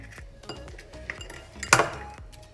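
Eggs are cracked into a well of flour for sweet crepe batter: soft clinks of shell and bowl, then one sharp, close crack near the end.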